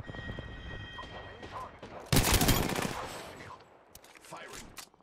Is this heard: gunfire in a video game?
yes